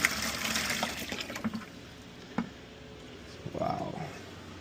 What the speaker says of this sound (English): We're doing a flush and you could see all the sediment that's stuck in here.